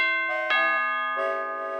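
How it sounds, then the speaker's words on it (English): A melodic doorbell chime rings out in a few sustained, overlapping tones, clear and close, with no voices around it. "Sounds like a doorbell."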